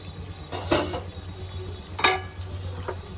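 A utensil scrapes and knocks against a pan while mango pieces are stirred and sautéed for a boal fish curry. There are two or three distinct close clinks over a soft background hiss, with no talk.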